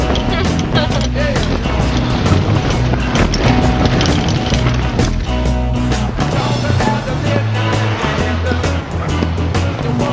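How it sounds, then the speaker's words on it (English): Strong wind roars continuously against the microphone, a loud, steady buffeting rumble with no pauses. "A little windy, huh?"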